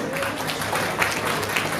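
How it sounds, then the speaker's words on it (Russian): Steady applause from an audience at a bridal pageant, greeting a makeup and hairdressing studio owner. Dense, even clapping runs for about two seconds at moderate volume, with a faint murmur of voices mixed in. "Под ваши аплодисменты"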